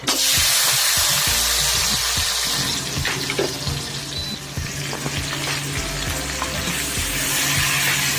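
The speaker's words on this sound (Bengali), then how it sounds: "কড়ায় তেল দিয়েছি এখন মাছগুলোকে এর মধ্যে দিয়ে দিচ্ছি" Tengra fish go into hot oil in a wok, and a loud, close sizzle rises at once before settling into a steady crackling fry with small bubbling pops and no talk.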